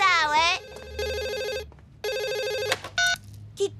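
A cartoon telephone rings in repeated electronic bursts of varying pitch, loud and near, separated by short pauses, with a brief cartoon-style warble before the rings.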